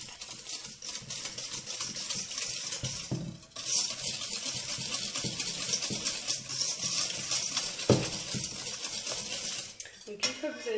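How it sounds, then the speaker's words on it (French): A whisk or spoon scrapes and clinks steadily against a bowl while flan batter is stirred with sugar, a busy continuous metallic swishing that holds at close range with brief pauses. "vous pouvez vous arrêter à cette étape là et vous mélanger"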